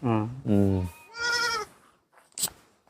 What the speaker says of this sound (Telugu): మేకలు మేకలు చిన్న మేకలు ఉన్నాయండి